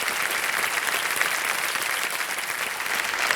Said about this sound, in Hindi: जोरदार तालियां इनके परिवार के लिए और जिनसे इनकी बात हो सकी